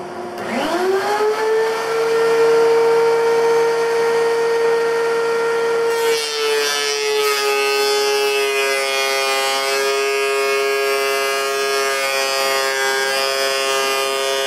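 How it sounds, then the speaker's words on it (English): A planer machine spinning up and running as thin cherry wood slats feed through, a loud, steady whine with strong tonal hum that shifts to a denser, rougher cutting roar partway through and then continues unbroken. "one quick pass through the planer, and now I've got these beautiful cherry slats"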